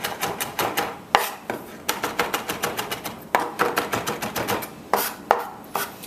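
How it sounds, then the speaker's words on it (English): A knife finely chops a Scotch bonnet pepper on a board, giving quick, rhythmic taps in rapid bursts with occasional sharper knocks, close and clear with no talking. "So now that the Scotch bonnet pepper is nice and finely chopped"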